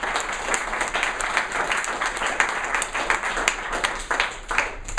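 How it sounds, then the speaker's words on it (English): An audience applauds after a property investment presentation, giving sustained, lively clapping from many hands that fills the room without any talking. "Give me a round of applause."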